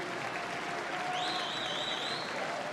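A crowd at an Overwatch World Cup esports qualifier in Paris applauds and cheers, producing a dense, steady wash of clapping that holds for several seconds, with a whistle rising over the top.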